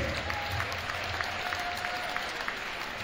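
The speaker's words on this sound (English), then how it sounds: "One more big round of applause for all 11 of our cheer seniors." A crowd at a high school basketball game applauds the cheer seniors with steady, dense clapping throughout.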